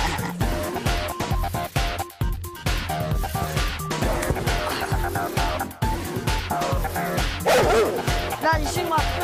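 A dog barks and yips repeatedly at a house, the sound busy and continuous under people talking and background noise throughout.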